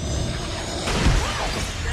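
Glass shattering in a Spider-Man: No Way Home film scene, where a pane is pulled and breaks; a sudden crash with a tumbling burst of shards about midway, over a steady busy background of score and effects.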